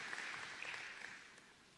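An audience applauds at the opening ceremony of a SADC leaders' summit in eThekwini, with steady, dense clapping that sounds distant and fades slightly toward the end.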